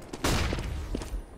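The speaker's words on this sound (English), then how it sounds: "I'm throwing a flashbang." Flashbang grenade going off in a tactical shooter video game: one sharp, loud burst that decays into a noisy ring, with a few softer thuds after it.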